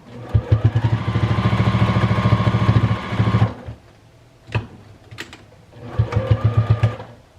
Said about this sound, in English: put my needle back in, sew, do a back stitch, and then continue on